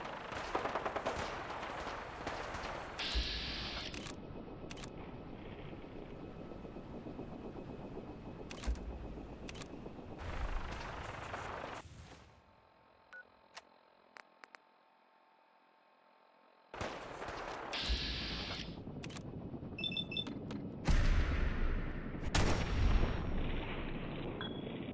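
Gunfire in the post-apocalyptic shooter Fallout 4, with rapid bursts of automatic weapons and sharp single shots that come loud and close. The shooting stops for a few seconds of near silence, then returns in dense, heavy volleys, with no voices.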